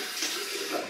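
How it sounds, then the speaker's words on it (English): A tap runs cold water for a rinse during a wet shave, a steady, hissing stream, close by and unbroken. "Cold water rinse."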